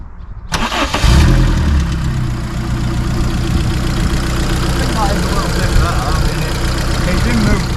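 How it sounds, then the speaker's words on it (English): A car engine cranks and fires into a loud, steady idle close by, a sharp start after a brief quiet lead-in; a voice talks briefly over the running engine. "we're going to start it up and see how it rattles"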